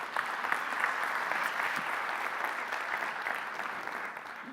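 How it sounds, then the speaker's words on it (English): An audience at an emergency medicine conference claps for the interpreters, a steady, fairly soft and distant-sounding round of applause lasting several seconds. "Let's round of applause for the interpreters doing a"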